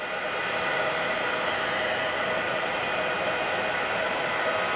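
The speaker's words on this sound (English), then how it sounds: "So we'll just heat this embossing powder." A heat tool melts embossing powder with a steady, loud blowing whoosh that runs unbroken and close throughout.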